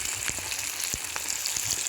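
Chicken pieces fry in a shallow pot of very hot oil, giving a continuous dense sizzle with scattered sharper pops and crackles, close and steady with no voices.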